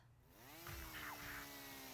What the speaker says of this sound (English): A drill pierced right through.